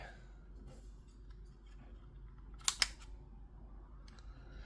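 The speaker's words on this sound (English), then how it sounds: "So you flick those on and it actually changes to a mouse click." Two quick, sharp clicks from the paddles of a Scuf Envision Pro controller being flicked, close and fairly quiet, with a faint background hiss.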